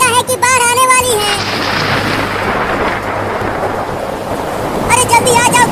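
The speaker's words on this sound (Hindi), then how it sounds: "बादल गरज रहा है और बिजली भी गिर रही है।" Heavy rain pours in a steady broadband hiss with low thunder rumbling beneath, while voices speak briefly at the start and end.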